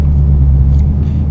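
Dodge Challenger R/T with automatic transmission downshifting as it slows, a steady loud low engine rumble close by with slight rises in pitch, no talking.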